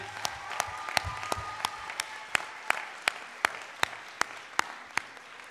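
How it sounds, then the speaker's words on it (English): Applause for 2023 graduates at a school graduation, a soft crowd patter dominated by one nearby pair of hands clapping in a sharp, steady rhythm, about three claps a second. "Let's give another round of applause for our 2023 graduates."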